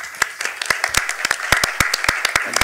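A small audience at a lecture in a university museum gives scattered, distinct claps, individual hand claps ringing out fairly close for a few seconds, with no talk over them.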